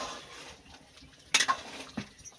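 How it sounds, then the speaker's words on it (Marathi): Ground spice paste being stirred into chicken curry in a pot, Agri village style over a wood-fired stove: soft scraping and a couple of sharp utensil knocks against the pot, fairly quiet and close. "अशा प्रकारे आता ते चिकनमध्ये मिक्स करून घेत आहे."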